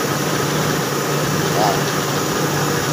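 A storage engine, fitted for an air conditioning setup, runs at a steady idle after starting, with a constant low hum and a faint higher whine, fairly close and loud throughout.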